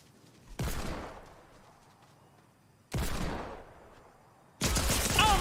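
Tactical pistol fire in a video game arrives as three sharp, loud shots spaced a couple of seconds apart, each followed by a fading tail, with no talk over them.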